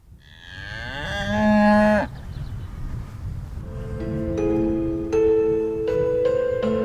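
Cows moo at an abbey in Lincolnshire: one long, loud low call, then several further drawn-out moos overlapping each other, outdoors over light wind rustle with no talk.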